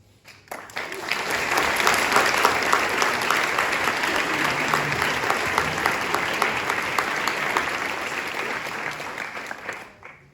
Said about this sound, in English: We'll send some of that applause over to her.